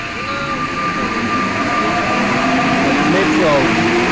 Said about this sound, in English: Metro in Santiago.